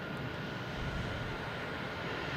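A landing airliner roars at Boston Logan Airport, a loud, steady broadband engine rush holding evenly throughout with no voices.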